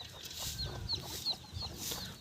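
Chickens on a small semi-enclosed goat farm in Borkhedi Tanda cluck in a series of short, high calls repeated about every third of a second, fairly faint over steady outdoor background noise.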